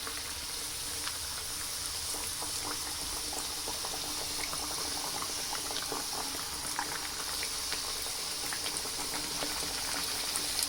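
Mathri dough made from moong dal fries in hot oil in a pan, a steady dense sizzle with fine crackling bubbles throughout, close and continuous.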